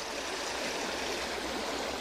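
A river in Zion National Park, Utah, rushing steadily over rocks, with a continuous broadband wash of flowing water, close and fairly loud, and no voices.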